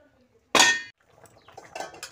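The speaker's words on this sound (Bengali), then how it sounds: "ঢাকনা দিয়ে দেব।" A lid set onto a cooking pot of rohu fish curry with potatoes, one bright metallic clang close up, followed by a few light clinks and small rattles.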